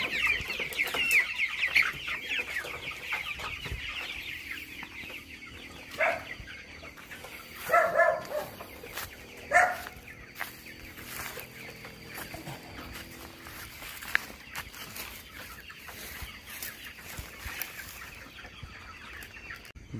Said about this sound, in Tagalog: Daming manok guys, oh.